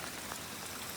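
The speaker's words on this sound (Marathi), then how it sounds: "आताच पाऊस लागायला लागला" Rain beginning to fall outdoors along a rural path near a well and river, a dense, steady patter of drops on the surroundings, fairly close and continuous.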